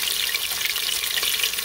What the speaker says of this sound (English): So the oil is hot. I'm just gonna go ahead and insert the pieces.